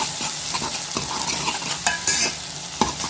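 Garlic and onions sautéing in a pan for a fish curry, with a continuous sizzle broken by sharp scrapes and clinks of a metal spoon against the pan, close and loud, no voices.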